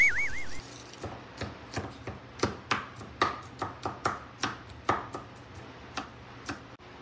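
Garlic cloves chopped with a knife on a cutting board, about fifteen crisp, evenly spaced knocks at close range over a faint room hum, with no talking.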